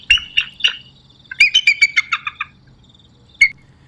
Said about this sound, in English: you want to hear what an eagle sounds like?